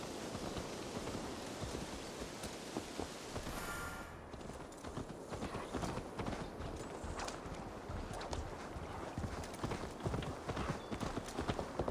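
Horse hooves clip-clop steadily on a road while riding in the Assassin's Creed Valhalla video game, a continuous rhythmic trot over a dense wash of rain-like ambient noise, with no talking.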